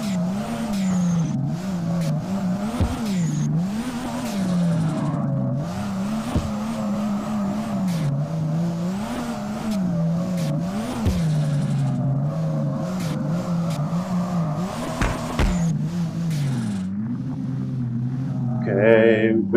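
A Nissan race car in a racing sim roars steadily through rising and falling revs, its tires squealing and skidding as it slides through corners and cuts across grass; the engine stays loud throughout with a brief burst near the end.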